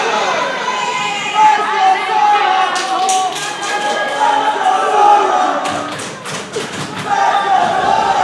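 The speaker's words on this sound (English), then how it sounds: "Listen to this crowd." Crowd at a Skyfire Pro Lucha Libre wrestling main event, a steady roar of cheering and chatter with several sharp thumps and claps standing out midway and near the end.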